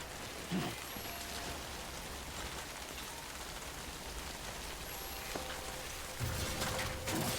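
Steady rain falls in the video game Death Stranding, a continuous hiss of drops on surfaces throughout, with a couple of slightly louder bursts near the start and the end.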